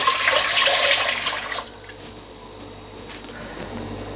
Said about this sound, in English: I'm just going to add the 3 cups of milk into that and just bring that to the boil